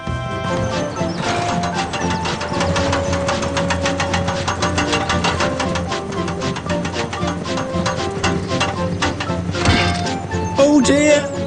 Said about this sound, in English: I'm trying to move, but my wheels won't go round.